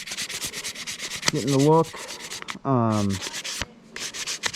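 A wooden diamond painting pen is sanded by hand, without power tools, in steady close back-and-forth strokes. Two stretches of voiced sound interrupt the rasping, and a voice speaks briefly.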